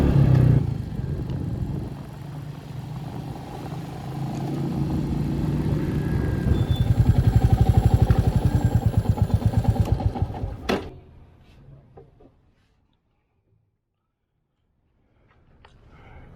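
A Royal Enfield Meteor 350 single-cylinder motorcycle carrying two riders chugs nearby with a steady rhythmic thump, swells slightly as it passes close, then fades away into near silence.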